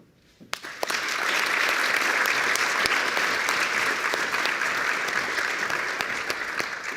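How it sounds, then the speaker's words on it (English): Audience at a university honors ceremony bursts into applause after a brief quiet moment, a few sharp early claps building into a full, sustained ovation that stays loud and even. "have everyone else stand up one more time for one big round of applause"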